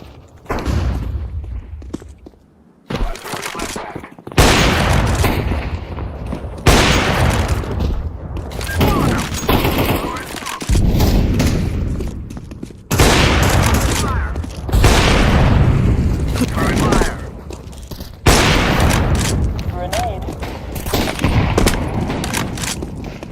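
Bursts of heavy gunfire in Counter-Strike 2, loud repeated volleys and booms in several blocks with brief gaps, while a voice talks over parts of it.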